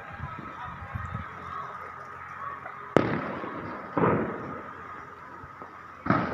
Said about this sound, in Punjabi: ਪਟਾਕੇ ਦੀਆਂ ਆਵਾਜ਼ਾਂ ਜਿਹੜੀਆਂ ਆ ਰਹੀਆਂ ਨੇ ਸਾਰੇ ਪਾਸੇ।